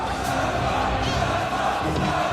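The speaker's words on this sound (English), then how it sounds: "Crowd roaring" A crowd roars and cheers loudly and continuously at a Super Smash Bros. tournament, dense and close throughout.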